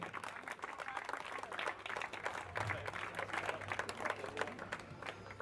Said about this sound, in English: Big round of applause there for Tom